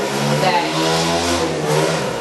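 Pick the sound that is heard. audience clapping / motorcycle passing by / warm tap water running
motorcycle passing by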